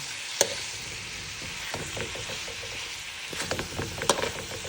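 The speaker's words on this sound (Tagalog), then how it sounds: "bisadong sayote" Chayote sizzles in a pan while being stir-fried, with a steady crackling hiss, clattering stirring scrapes and a few sharp utensil knocks close by.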